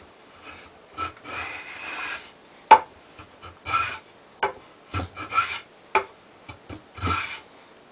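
A Wood River low angle block plane rasps across a maple board, taking dust rather than shavings. Short, uneven scraping strokes repeat about a dozen times, close and fairly quiet, with brief gaps between passes.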